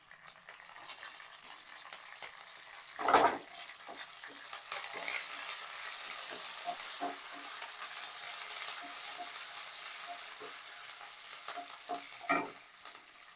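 Curry leaves and two dried red chillies fry in hot oil for a tempering, giving a continuous sizzle broken by stirring scrapes and a couple of louder clattering bursts, with no talking.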